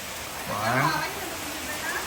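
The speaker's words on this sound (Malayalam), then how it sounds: "ആ ഭയങ്കര മഴയാണ് കേട്ടോ" Steady heavy rain with wind hisses continuously in the background, water running along a path, while a person speaks briefly over it.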